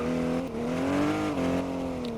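A car in the game Car Dealership 2 holds a steady engine drone that rises and falls slightly in pitch, dipping briefly twice, loud and close with no one talking.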